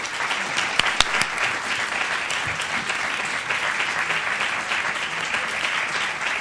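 A crowd applauds steadily for a full stretch, welcoming speakers Marc Lamont Hill and Mehdi Hasan at a talk event, with a few sharper claps standing out near the start.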